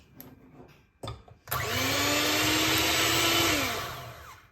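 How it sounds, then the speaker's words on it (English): An electric hand mixer whips cream for Jamaican Dragon Stout ice cream, starting after a few brief knocks and running as a loud, steady whir for about three seconds before easing off, close up and with no talking. "So I'm just going to use the hand whisk and just whisk it up."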